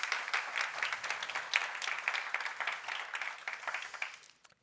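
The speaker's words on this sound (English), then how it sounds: "give a round of applause to all the support professionals here" A conference audience applauds in a steady, dense wash of clapping heard from a distance, moderately quiet, fading out at the end.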